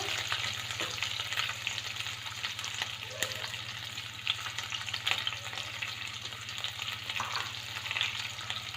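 Cumin seeds and onions sizzle steadily in a pan over low heat, a continuous crackling fry with occasional stirring scrapes and a constant low hum underneath.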